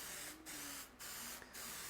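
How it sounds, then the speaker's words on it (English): Three short hissing bursts of pan spray onto a baking pan for brownies, evenly spaced close-up sprays separated by brief gaps. "if you have pan spray, make sure to get the corners real well,"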